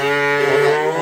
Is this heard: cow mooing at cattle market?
yes